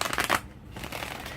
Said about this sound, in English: so now let's shuffle